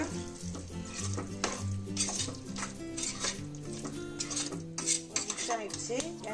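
A metal spoon scrapes and clatters against a pan while mushroom biryani masala with yogurt is stirred, set over a low sizzle. The knocks are irregular and close, with a soft steady tone running underneath.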